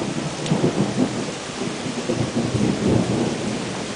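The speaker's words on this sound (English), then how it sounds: "Was the thunder to the right of us?" Rolling thunder rumbles through a nighttime thunderstorm in Salamanca, New York, with steady rain hissing beneath it; the deep boom swells and fades over several seconds, fairly close and loud, with no voices.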